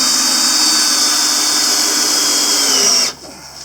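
A power drill drives countersunk screws into a wooden hay and feed shelf, a loud steady whirring that holds for about three seconds and then cuts off, leaving quiet.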